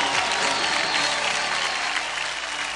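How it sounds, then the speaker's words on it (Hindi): Studio audience applause on a TV singing show, a steady dense wash of clapping filling the whole moment at moderate loudness with no voices over it. "जोरदार तालियां हो जाएं।"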